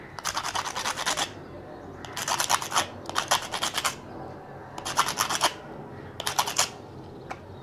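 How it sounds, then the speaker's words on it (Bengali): Metal spring inside an old gas lighter being rubbed clean and shiny, heard as five scratchy scrubbing bursts, each about a second long, separated by short pauses and recorded up close. "এখানে একটা স্প্রিংয়ের মধ্যে লোহার ইয়ে আছে এটাকে একটু ঘষে দিবেন এখন চকচকা হয়ে যাচ্ছে"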